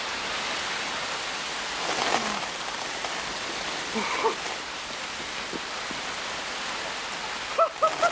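Rain falls in a movie scene, a continuous soft hiss of drops on surfaces with a few brief louder taps and clicks near the end, with no talking.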